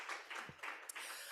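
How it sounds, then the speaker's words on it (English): A conference audience at a climate transition skills event gives a round of applause, a moderately loud, steady patter of many hands clapping. "Just a round of applause."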